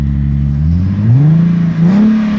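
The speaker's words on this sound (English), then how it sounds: "All right, Ty, I want you to rev it up here for me" Engine of a 2015 Infiniti QX80 revving up close and loud, its pitch rising smoothly, dipping briefly, then climbing again into a sustained higher whine.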